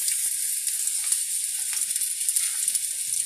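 Green plantain slices fry in hot oil in a pan, giving a steady, bright, close sizzle that hisses continuously throughout, with faint crackles and no voices.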